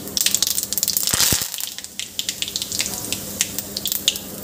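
Curry leaves drop into hot oil already spluttering with mustard and cumin seeds, giving a sharp burst of crackling and popping that settles into a dense, close sizzle with scattered spits.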